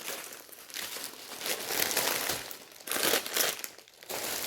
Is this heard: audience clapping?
no